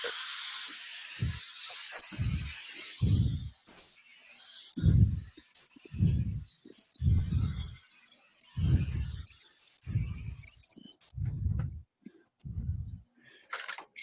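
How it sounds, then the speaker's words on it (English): Bursts of hissing spray from a large spray gun applying lacquer repeat in short pulses, each a second or so long, against a steady high airy hiss, fairly close. "And I use a big spray gun"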